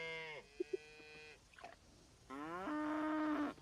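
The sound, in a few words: cows mooing in the video game Coral Island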